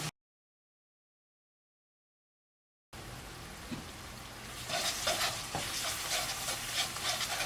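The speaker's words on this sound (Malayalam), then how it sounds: "ഇനി അതും ഇതിൻ്റെ കൂടെ ഇട്ടിട്ട് നന്നായിട്ടൊന്ന് മിക്സ് ചെയ്യാം." Masala paste stirred into tomato paste frying in oil for a restaurant-style chicken curry with thick gravy; after a silent start, a steady close sizzle with scraping stirs rises and continues.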